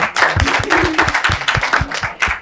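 An audience claps and applauds in a room, a dense run of hand claps going on steadily for a couple of seconds, with some voices mixed in.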